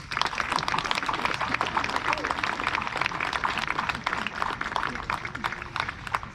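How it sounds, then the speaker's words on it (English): Applause from a crowd for the parents at a graduation ceremony, dense steady clapping throughout, with voices mixed into the noise. "Our graduating class would like to give a round of applause for their parents"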